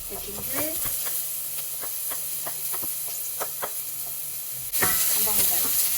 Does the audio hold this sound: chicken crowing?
no